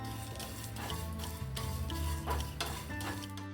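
Seeds for laddu being dry-roasted and stirred in a pan, with a steady scraping and rustling of the spoon against the pan, light sizzle and occasional clinks, close and continuous, no talking.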